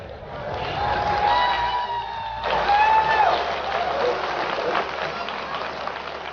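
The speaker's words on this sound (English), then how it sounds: "These guys have to clap." Audience applause and cheering from a Linux World conference crowd as the conference chair is welcomed to the stage, steady and loud throughout, with whistles and shouts rising over the clapping.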